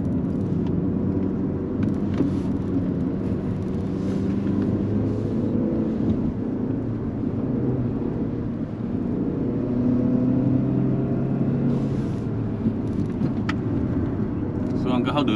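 A Mazda CX-8 2.5 turbo drives uphill on a winding mountain road, its engine and road rumble a steady, loud drone inside the cabin throughout, with people talking over it.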